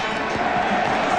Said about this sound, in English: the crowd getting a little testy here